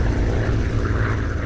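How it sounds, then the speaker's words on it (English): A twin-prop Convair 340-580 airliner flies at cruising altitude above the North Sea, giving a steady, loud, low engine drone that fills the whole stretch with no voices. "The aircraft they're flying is a twin-prop Convair"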